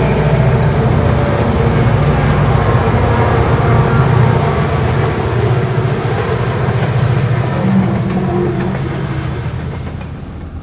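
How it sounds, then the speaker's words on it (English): A long Reading and Northern freight train hauled by three SD40-2 locomotives rumbles past close by, loud low engine drone and steady wheel noise that slowly fades toward the end. "The trio of SD40-2s put on a good show with a big train."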